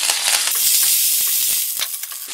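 Curry leaves dropped into hot oil with golden fried dal for masala dosa and sambar, crackling and sizzling loudly up close in a dense, spattering burst that eases slightly toward the end.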